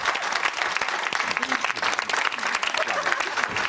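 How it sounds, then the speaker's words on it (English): TV studio audience applauding, a loud dense burst of clapping that holds steady for a few seconds with some cheering mixed in. "give him a round of applause"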